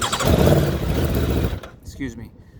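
A 2019 Aprilia Tuono RR motorcycle engine running loud and close, a dense rumble that cuts off abruptly partway through, followed by quieter handling noise.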